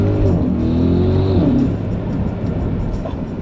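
Audi SQ7 engine revving hard on a downshift, a loud close blip that climbs and falls sharply, then settles into a lower rumble.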